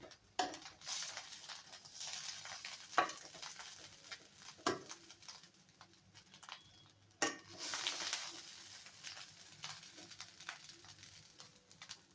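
Egg fried rice is stirred and tossed in a pan, with a metal spatula scraping and clattering in irregular bursts and a soft sizzle underneath, fairly faint and with no talk.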